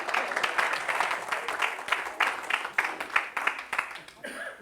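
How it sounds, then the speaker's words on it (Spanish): Church congregation applauding for a brother, a steady close burst of many hands clapping that continues for several seconds, with a voice briefly over it near the end. "Démele otro aplauso a mi hermano José."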